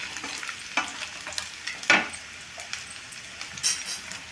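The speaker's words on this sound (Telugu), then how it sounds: "ఇప్పుడు పట్టు పెట్టుకున్న మసాలా పొడి వేస్తాను." Masala powder is stirred into a sizzling paneer and cashew curry in a pan, with soft frying hiss under scattered spoon scrapes and clinks against the pan, close and fairly quiet, no talking.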